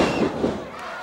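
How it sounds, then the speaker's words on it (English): A wrestling arena crowd roars in a brief, dense burst of cheering and noise at fairly loud level, with no clear break. "Listen to this crowd."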